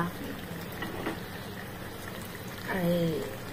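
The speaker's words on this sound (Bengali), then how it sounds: "ভাজার এই তেলটা দিয়ে দিলাম। দিয়ে আমি এবার একটু ফুটতে সময় দেব।" Hot frying oil goes into a pomfret fish curry simmering with salt, turmeric and ginger, giving a low bubbling, pouring hiss that swells near the end while a person talks over it.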